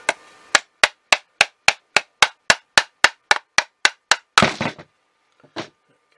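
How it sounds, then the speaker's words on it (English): A Miele motor part is tapped down with a piece of wood in about fourteen sharp, evenly spaced knocks, followed by a scuffing clatter and one last faint knock. "Tap it down with a bit of wood, releases it, keeps it all in place."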